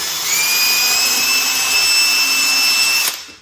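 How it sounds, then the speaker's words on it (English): A power drill whines steadily at high pitch for about three seconds, close and loud, drilling a hole in an aluminum studio reformer frame, then spins down and stops. "I'll just go ahead and just drill that hole nice and carefully"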